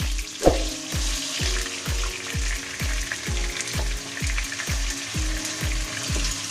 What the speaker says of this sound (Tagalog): Nilagyan ko na rin po ng mantika. Uunahin po natin ang ating tofu. Medyo ito-toast lang natin ng konti.